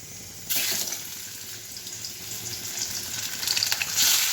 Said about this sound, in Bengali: এবারে এই মাছটা ভেজে নেব।